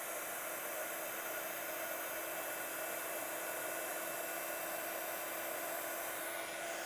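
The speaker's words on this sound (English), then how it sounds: "Okay, and then we can take our heat tool and heat this up." A craft heat tool blows hot air over embossing powder on a handmade Christmas card, a steady close fan whir and airy hiss with a faint tonal hum that holds unchanged and uninterrupted throughout.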